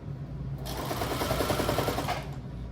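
A sewing machine runs in a fast, even stitching burst of about a second and a half, sewing a handle down onto a Lay's Hickory BBQ chip-bag tote, close and loud with a quiet motor hum before and after.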